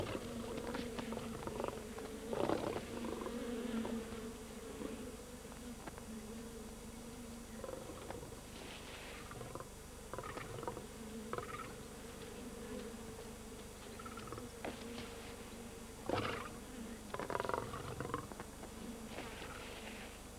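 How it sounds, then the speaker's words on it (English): An angry swarm of bees disturbed by a lion cub in the wild, a faint continuous buzzing drone with scattered louder rustles and thumps over outdoor ambience. "The cub disturbs a swarm of bees."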